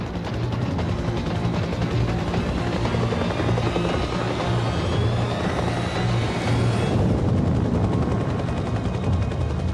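A military helicopter in Afghanistan airlifts a suspect to Camp Bastion, making a loud, continuous rotor thump and turbine roar that stays close throughout, with a shift in pitch near the end.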